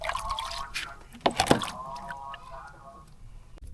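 Water being poured into a container to hold betta fish, with a splashing pour near the middle over a quiet liquid trickle, and a voice talking throughout.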